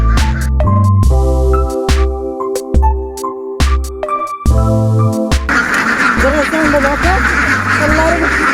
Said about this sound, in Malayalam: നമ്മൾ ഈ കാണുന്നത് കുട്ടനാടൻ താറാവുകളാണ്. അതായത് കുട്ടനാട്ടിലൊക്കെ കാണുന്ന ചാര കളറിലുള്ള താറാവുകൾ.